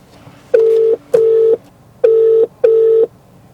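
Four steady electronic tones pulse in two pairs, loud and close, like a phone's ringback or dialing signal with no voices.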